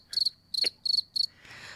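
Four quick bursts of cricket chirping, each a rapid trill, crisp and close, followed by a brief softer rustle with no voices.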